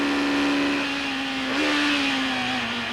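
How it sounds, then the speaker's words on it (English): A British Touring Car Championship racing car engine, a BMW among the field, drones loudly and steadily at high revs with a strained, rough tone through a corner at a circuit, with a slight pitch dip midway. "that engine sounds rough"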